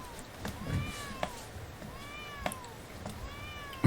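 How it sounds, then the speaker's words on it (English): Repeated meows from the cartoon cat in the video game Bomb Cat, four drawn-out cries spaced about a second apart, moderately loud with light background noise and a sharp click at the end. "hearing the cat meow constantly"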